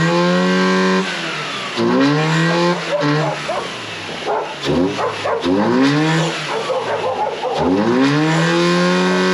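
Blown, overboosted supercharged Toyota 3RZ engine in a 4x4 Toyota Sunrader motorhome revving in several loud sweeping bursts that rise and fall, close up, with a dog barking and voices talking around it.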